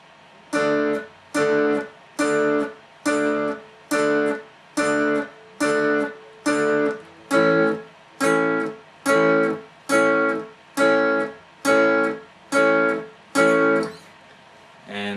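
Electric guitar plays the verse of a song, a clean, evenly spaced chord stab repeated about fourteen times in a steady reggae-like rhythm, each hit short and clipped with a gap of silence after, close and alone.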